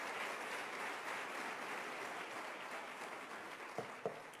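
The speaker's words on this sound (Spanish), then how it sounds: "Dale un aplauso al Rey bendito" A congregation applauds the King during a Spanish-language church service, a faint, distant wash of clapping held steady throughout, with two brief knocks near the end.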